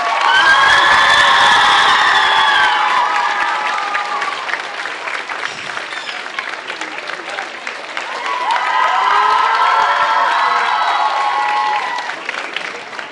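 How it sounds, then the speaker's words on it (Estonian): A school audience at a PlayBox 2022 event at Kose Gymnasium claps loudly and cheers with children's shouts and whoops, the applause fading and then swelling again in a second loud burst. "Aplausi!"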